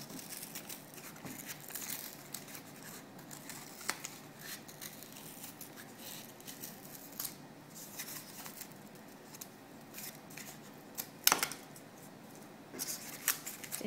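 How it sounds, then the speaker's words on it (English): Scissors snipping through a cardboard circle, cutting a line to the center and removing the inner ring, with soft crinkling and rustling at close range, quiet and irregular, plus one sharper snip near the end. "you want to cut down one of your lines to the center circle and cut out the center circle"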